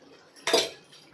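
A metal spoon strikes a cooking pan once while ground spices are stirred in: meat masala, garam masala, turmeric and chili powders for a crab, potato and pointed gourd curry. The quick clink rises briefly out of a quiet room.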